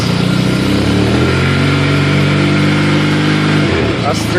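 A 2012 Arctic Cat XF 1100 Sno Pro snowmobile engine runs loud and close at a steady high rev, holding a droning pitch before dropping off near the end, with someone talking over it.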